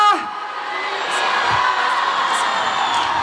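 A large concert crowd shouts "Spasibo!" ("Thank you!") together in one loud, sustained roar, with some whoops rising above the mass of voices.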